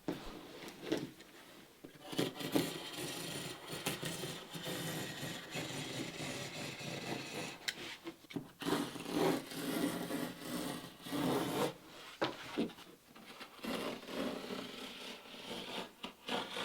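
Steady scraping and rasping of fiberglass cloth being cut back on a lapstrake boat hull, a continuous close rough rubbing with short irregular pauses and no talking.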